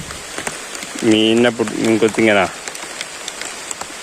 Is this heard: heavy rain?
yes